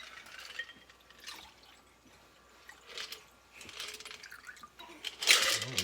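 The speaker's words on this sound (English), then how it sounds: "And we will strain it into a martini glass." A stirred cocktail is strained into a martini glass, with a soft trickle of liquid, faint metallic clicks and drips, ending in a louder brief splash and clink close by.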